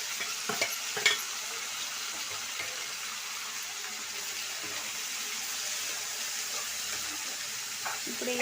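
Pieces of ivy gourd frying in a pan for a masala curry while being stirred, a steady broadband sizzle with a few sharper scraping clicks early on, close and continuous with no speech.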